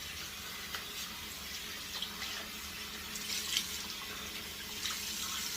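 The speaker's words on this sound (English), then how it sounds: "Got to rinse the lather off." Water runs steadily from a tap, splashing as shaving lather is rinsed off a tub, a continuous hissing stream with small splashes and no talk.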